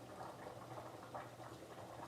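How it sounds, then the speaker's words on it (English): Water bubbles at a low, rolling boil in a pot on a home stove during shrimp Alfredo cooking, a quiet, steady burble of small pops heard without any talk. "The water sounds like it's boiling a little too much."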